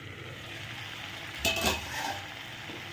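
Vegetables cook under a lid in a pan with a soft, steady sizzle, briefly broken by a louder clatter and a stir midway, then settling back to a quiet simmer.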